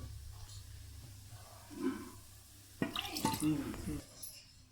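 Water saved from boiling greens is poured into a pan of tempering, giving a short splashing, hissing burst partway through, heard under a person talking.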